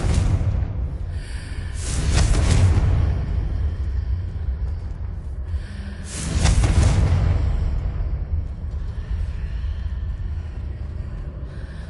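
Two heavy, booming blasts of the Confringo spell in the video game Hogwarts Legacy, a few seconds apart, each swelling into a deep rumble over a low steady background.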